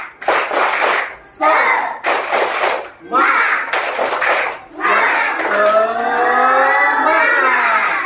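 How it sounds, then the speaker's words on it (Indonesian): Schoolchildren in an Indonesian classroom perform a rhythmic spirit clap, sharp bursts of clapping chanted along in unison in close-up. Young voices swoop and call out toward the end. "Bapak minta kita melakukan ekspresi tepuk semangat"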